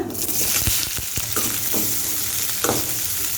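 Chopped onion sizzles steadily in hot oil while sharp clicks of a spoon or spatula stir the pan now and then, close up with no talking.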